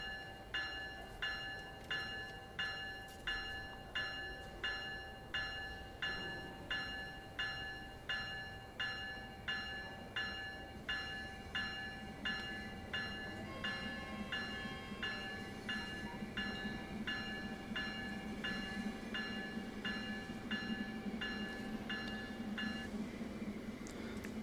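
A long passenger train in Train Sim World 3 on the Northeast Corridor between New York and Trenton rumbles steadily, with a regular rhythmic clatter of wheels over rail joints, a steady tone running through most of it and rising low rumble toward the end.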